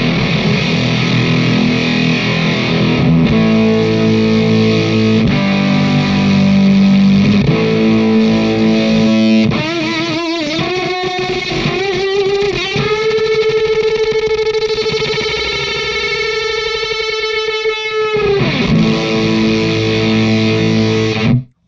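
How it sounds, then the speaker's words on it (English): A ZVex Machine guitar fuzz pedal with its gain turned up plays loud, heavily distorted guitar: choppy repeated chords first, then sustained, wavering high-gain notes with synth-like harmonics that ring out alone before a final break. "that's certainly unlike any other fuzz tone you may have heard"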